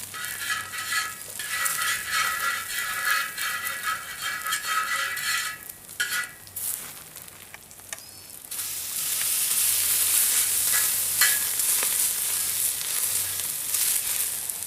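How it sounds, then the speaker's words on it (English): Beef fat sizzles steadily on a hot disc grill being seasoned, a loud, continuous crackle that eases briefly midway, then returns stronger and brighter. "beef fat around a little bit, letting the grease come out"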